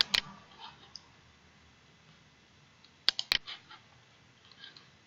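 Sharp mouse clicks while drafting in CAD software: a quick single click near the start, then a tight cluster of two or three clicks about three seconds later, close and crisp over a quiet room.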